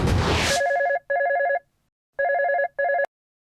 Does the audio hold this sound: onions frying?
no